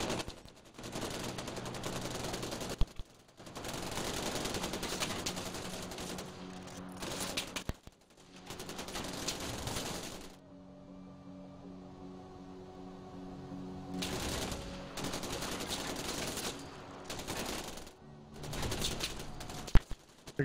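Bursts of automatic gunfire from target practice in the Far Cry 4 video game, rattling in several long volleys separated by short pauses, with soft bird coos in the quieter gaps.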